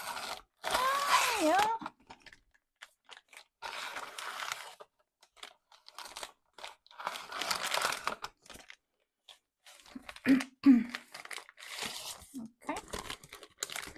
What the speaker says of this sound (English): I have my cutter here, and I hope I can cut this bag with this